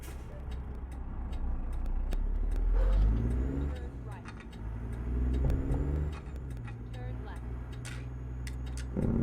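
A heavy truck engine in the video game American Truck Simulator rumbles low and loud, with rising and falling revs and a throaty staccato engine-brake growl, while someone talks over it.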